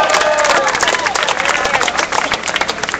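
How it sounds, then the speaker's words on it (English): Outdoor crowd at a March Against Monsanto rally in San Francisco clapping and cheering, with loud bursts of applause mixed with shouts and whoops, fairly close and energetic throughout. "Let's give him a round of applause."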